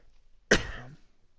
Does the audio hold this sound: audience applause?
no